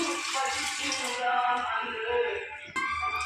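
Rice swished and rinsed in water in a home kitchen, a steady wet sloshing and splashing that carries on close by without pause, ending in a brief louder splash.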